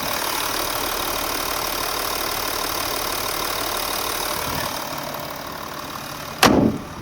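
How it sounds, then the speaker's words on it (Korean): A 3000cc diesel V6 in a Volkswagen Touareg idles steadily with the engine bay open, a close, even mechanical rumble that lasts several seconds, eases slightly, then ends with a brief bump. "3000cc 디젤 엔진룸 들어보았습니다"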